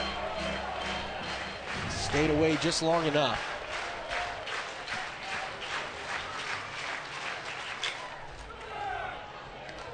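A college baseball crowd, Vanderbilt at Georgia, murmurs and cheers at the pitcher as a steady wash of distant stadium noise beneath a play-by-play commentator talking.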